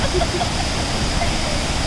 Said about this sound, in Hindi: इधर बह रहा है झरना, जो हम सब गाने के लिए आए हैं, लेकिन आवाज आ रही है झरने की ज्यादा।